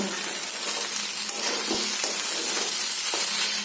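Rice and vegetables frying in ghee for paneer pulao, a steady close sizzle with a few soft scrapes and taps of stirring throughout, no voices.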